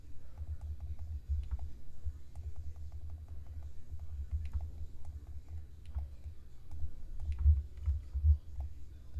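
A computer mouse clicking steadily while editing artwork in Photoshop: a long run of small, crisp clicks, quiet and close, at an uneven working pace over a low hum, with no voices.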